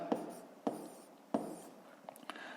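Numbers being written on a board during a fifth-grade math lesson, a few faint scratchy marker or chalk strokes with short gaps between them, quiet and close.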